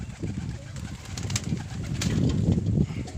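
Crested pigeons, a breeding pair, coo in steady low throaty pulses close by, repeating throughout with no talking over them.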